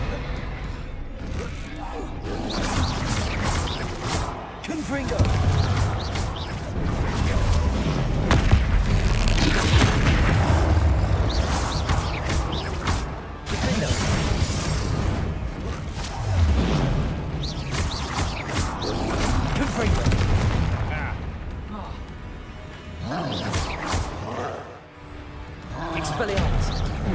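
Confringo blasting spells go off repeatedly in the Hogwarts Legacy video game. A series of loud booming explosions and crashes comes in bursts over a dense, continuous bed of combat noise.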